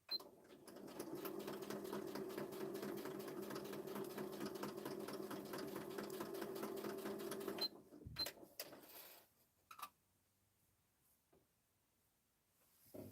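A sewing machine runs steadily for about eight seconds, stitching a desktop flip-book craft project with a dense, even mechanical whir, then stops and leaves a few faint handling clicks and rustles.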